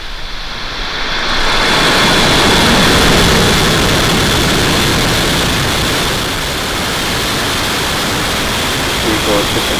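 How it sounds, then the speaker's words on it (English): A SpaceX Falcon 9 rocket lifting off on a Starlink launch, its engines producing a loud, dense, continuous roar that swells and holds steady, with voices in the background. "Liftoff."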